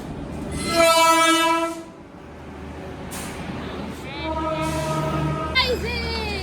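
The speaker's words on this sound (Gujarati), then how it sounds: "આપણી ટ્રેન આવી ગઈ છે" A train horn blares twice as the train arrives at a station, then it rumbles nearby while a voice speaks briefly over the noise.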